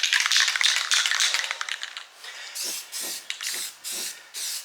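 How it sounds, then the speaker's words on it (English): Rust-Oleum spray paint hisses onto a Craftsman T3000 riding mower deck, first in a long continuous spray, then in several short rhythmic bursts with small gaps between them. "Just touched up a couple of the really bad areas with a little Rust-Oleum"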